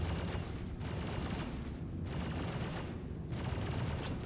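Turret gunfire in Star Citizen pounds continuously in dense, loud rapid bursts over a heavy low rumble, with brief surges and dips in the barrage.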